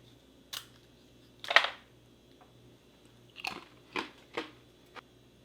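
Several sharp, crisp crunches of someone biting and chewing hard chocolate-flavored biscuits from a French military ration, spaced irregularly, close up, with no talking.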